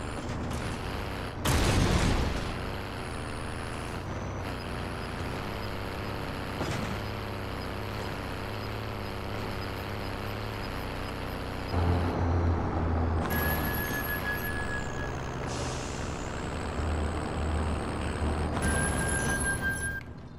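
A vehicle drives in Call of Duty Warzone, a steady engine drone with mechanical rattles and creaks throughout, a sharp thud near the start and rising whine tones later, no talk.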